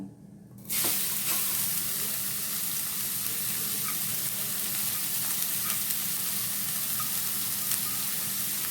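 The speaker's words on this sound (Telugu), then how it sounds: "ఇప్పుడు ఆనియన్స్ వేసేస్తున్నాను" Onions dropped into a little hot oil in an AMC cookware pan for a fish curry burst into a loud, steady sizzle that starts abruptly and continues evenly, with light scraping of stirring.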